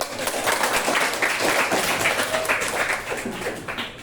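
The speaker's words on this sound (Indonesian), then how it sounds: "Kita tepuk tangan." A classroom full of people claps steadily for several seconds, dense and continuous, with a few voices mixed in.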